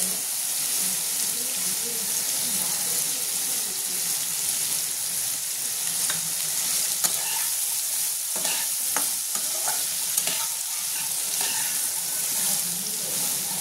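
Watermelon rind fries gently in a pan with a continuous close sizzle, while a spoon scrapes and taps against the pan several times in the middle stretch.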